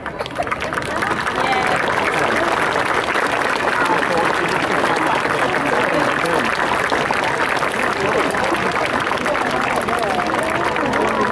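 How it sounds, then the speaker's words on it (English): Steady, sustained applause from an outdoor crowd at an emergency services day, acknowledging a fire crew after a road traffic collision car extrication demonstration; loud, dense clapping holds evenly throughout. "I would really appreciate it if you could give them a great big round of applause, please"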